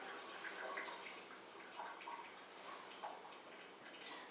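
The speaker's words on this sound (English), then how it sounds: "Make sure you really rinse it out." Warm tap water runs while a tea towel is rinsed under it, a faint, steady splashing with small irregular drips and slaps.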